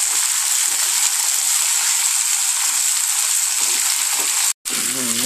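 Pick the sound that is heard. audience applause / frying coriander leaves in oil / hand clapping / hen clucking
frying coriander leaves in oil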